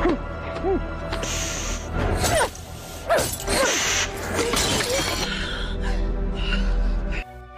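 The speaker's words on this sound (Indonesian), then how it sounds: "Sehingga Juliet berusaha untuk memecahkan kaca helmnya." Someone struggles and strikes at the glass visor of a sealed helmet, producing repeated knocks, gasps and a crackling shatter under dramatic background sound.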